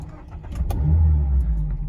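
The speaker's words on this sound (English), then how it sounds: "that little rev, it's just got that nice sports car feel to it" Starting up a Mazda MX-5 RF with the 2.0 Skyactiv-G engine brings a short burst of cranking that swells into a quick rev, close and fairly loud, then holds briefly before easing.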